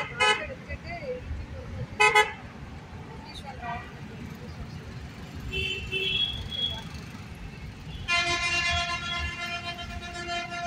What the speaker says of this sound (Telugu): స్టేడియం మెట్రో స్టేషన్ ఇది.